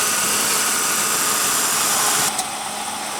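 A 1996 Ford Taurus GL with a 3.0 L V6 idles steadily, a constant hum and hiss with no speech, the level dropping slightly near the end.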